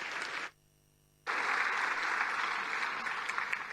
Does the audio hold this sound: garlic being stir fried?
no